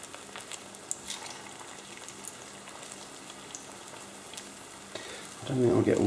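Egg bread goes into a warmed pan and starts to sizzle faintly at first, then swells into a louder frying burst near the end.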